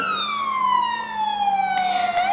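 A loud, close ambulance siren wailing in a long downward sweep, then starting to rise again, with a steady low drone beneath it.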